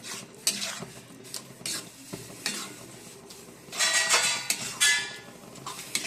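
Homemade chhena in a pan is broken up and stirred, giving repeated scraping strokes of a spatula against the metal over a soft sizzle, close and fairly loud, with bursts of louder sizzling midway and no talking.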